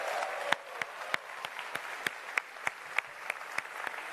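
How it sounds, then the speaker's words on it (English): Audience applause at an expo main stage after a game developer presentation, a steady wash of many hands clapping with sharp individual claps standing out, moderately distant and sustained throughout. "a huge round of applause for the Jurassic World Evolution developers"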